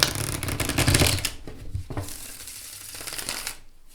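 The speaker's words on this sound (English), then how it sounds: "Now let me show you how this deck shuffles, because it shuffles like a dream" A tarot card deck printed on black core cardstock is riffle shuffled up close, a loud fluttering burst of cards snapping together, then softer ruffling and a second quieter riffle, with no talking.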